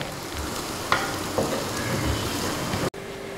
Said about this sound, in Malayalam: ഇനി ഇഞ്ചി വെളുത്തുള്ളിയുടെ പച്ചമണം ഒന്ന് മാറുന്ന വരെ നമുക്ക് നന്നായിട്ടൊന്ന് വഴറ്റി കൊടുക്കാം.